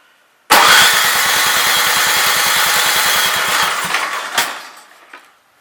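A 1970 Ariens snow blower engine catches abruptly and runs loud and close with a steady rapid putter for several seconds, then sputters and dies away.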